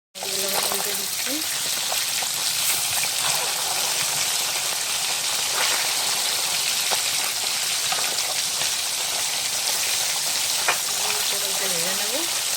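Tilapia fish sizzling in hot oil, a steady broadband frying hiss running throughout with a faint voice and a few tonal sounds near the start and end.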